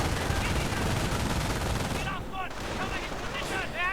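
A machine gun fires in a multiplayer strategy video game, rapid bursts of gunfire mixed with dense battle noise throughout, loud and close.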